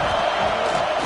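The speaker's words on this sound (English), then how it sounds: "This crowd bringing the energy and noise early." A college football stadium crowd roars in a dense, continuous wall of cheering, loud and close, without any break across the short span.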